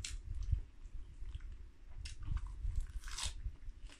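Close chewing and biting of rice during a meal, soft crunches and wet mouth sounds repeating in an uneven rhythm, with no talking.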